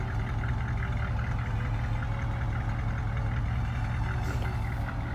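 A 1949 Cadillac engine idles steadily, a low even rumble with a faint rhythmic knock, close by and alone.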